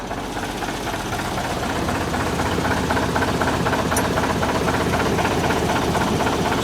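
A 1963 Volvo BM tractor engine running steadily, a loud close diesel chug with an even knocking rhythm that holds throughout, with no talking.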